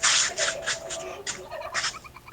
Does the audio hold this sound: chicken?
yes